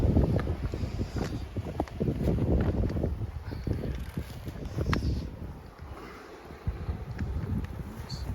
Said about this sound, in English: It's windy down here.